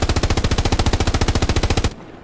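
Sustained automatic-weapon fire in the WW2 shooter Hell Let Loose, a loud, close, rapid burst of evenly spaced shots that runs for nearly two seconds and then cuts off abruptly into quiet.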